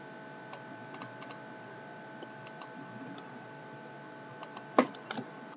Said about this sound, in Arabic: نضغط على كنترول وانتر